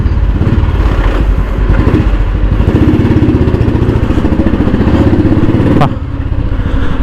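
A Royal Enfield Bullet motorcycle engine thumps steadily up close with a loud, even, rapid beat and a brief clank near the end.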